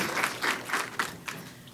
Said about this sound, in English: Let's have a welcoming round of applause for Dr. Jordon